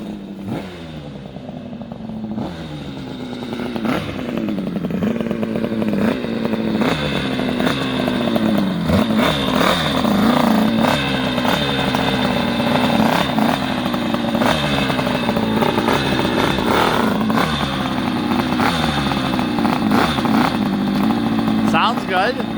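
A Yamaha CS3 200 road race motorcycle, a two-stroke twin, starts up and revs hard with a loud, raspy, crackling engine note rising and falling up close, with people talking over it.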